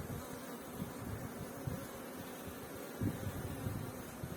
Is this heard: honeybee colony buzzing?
yes